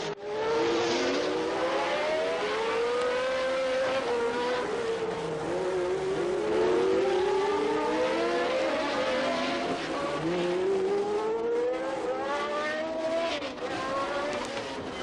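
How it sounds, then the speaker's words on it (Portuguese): Formula 1 cars racing on track in the Alan Jones and Emerson Fittipaldi era, engines wailing and rising and falling in pitch as cars close up and pass, loud and continuous with no talking. "Agora sim, ele vai tentar a ultrapassagem sobre Emerson Fittipaldi"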